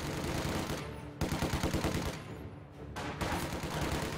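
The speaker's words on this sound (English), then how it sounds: "we're being shot at" Dense video game gunfire in a combat setting, rapid machine-gun bursts and overlapping shots rattling continuously for several seconds, loud and close with brief dips between volleys.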